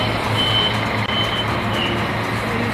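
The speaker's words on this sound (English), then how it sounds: "So this is the bus station going to other places" Reversing beeps from a large vehicle at a bus station in Castellón de la Plana, a few spaced tones sounding over a steady, loud background of engine rumble and station noise.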